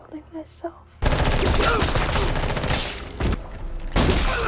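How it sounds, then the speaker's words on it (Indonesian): Heavy gunfire erupts in a film shootout where a man fires his shotgun at mafia men, a dense, loud barrage of blasts after a quieter opening, with a second burst near the end. "Sedangkan Levon langsung menembak dengan shotgun miliknya ke arah para mafia itu."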